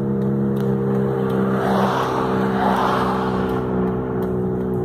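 A poorly functioning car crawls along at about 8 to 10 miles per hour, giving a steady low engine drone with a faint whirring rise and fall, heard from inside the vehicle with no talking.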